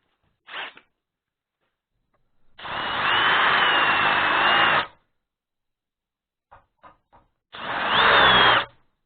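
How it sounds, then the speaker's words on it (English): A power tool chamfering a damaged bolt hole in aluminium or cast iron, two sustained whirring grinding bursts of a couple of seconds each, separated by short clicks and brief taps, close and clear with no talk. "Make a bigger chamfer of the damaged hole."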